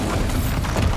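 A Bombarda blasting spell explodes in Hogwarts Legacy, a dense, loud, booming blast with rumbling low end filling the whole moment.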